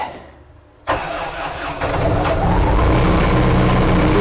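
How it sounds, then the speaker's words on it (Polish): A Bobcat Hytrack 1760 diesel engine started after its glow plugs are preheated, with a short crank that catches and settles into a loud, steady running rumble close by. "należy podrzeć świece żarowe bo on bez świec nie zapala. Raz, dwa, trzy, cztery, pięć. Powinno starczyć. Odpalamy."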